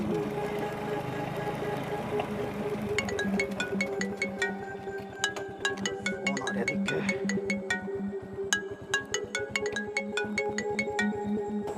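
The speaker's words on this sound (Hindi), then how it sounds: "तो चाचा का फोन है" A phone ringtone plays a repeating melodic electronic tune, steady and fairly close, with faint background noise and no talking.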